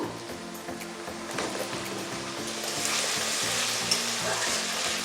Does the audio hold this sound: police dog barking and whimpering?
no